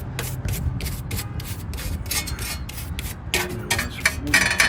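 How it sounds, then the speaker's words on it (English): A brush scrubs brake dust out of a dirty brake caliper on a 2004 Honda Pilot, making steady, close, rhythmic scratchy strokes in quick repeated bursts with no talking. "So we'll brush all the dust out of it."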